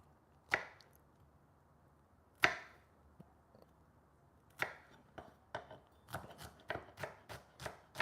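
Shallots chopped with a knife on a cutting board: a couple of isolated, widely spaced chops, then a quicker run of crisp, close knocks, with quiet pauses between strokes.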